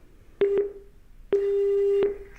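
Telephone busy tone on a radio call-in line after a caller drops: a short beep, then a longer steady beep, clean and alone.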